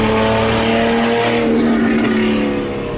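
A 1000-horsepower Nissan GT-R engine roars loudly and continuously while driving, holding a strong, rising tone throughout before easing slightly at the end.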